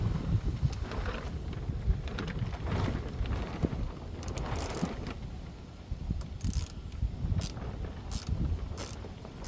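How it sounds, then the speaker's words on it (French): Close mechanical clicking comes from a ratchet wrench turning a fastener while a motor's power feed is routed to a car boot, in short irregular bursts over a low rumble of handling noise. "Munissez-vous d'un cliquet, hein, c'est ce qui est le plus rapide."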